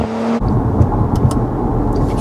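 An Audi RS4 V6 biturbo running on ethanol, in sport mode, gives a steady, loud, close engine rumble with a slight rise in revs, and no voices.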